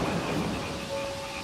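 Thunder rumbles low and heavy under steady rain in a cartoon stormy evening scene, a brief dense roar without voices.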